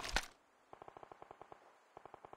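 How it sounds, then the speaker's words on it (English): Bursts of automatic gunfire in a Call of Duty match, a loud blast followed by two runs of rapid, evenly spaced shots at moderate distance, with a short gap between volleys. "I'm hearing lots of gunfire."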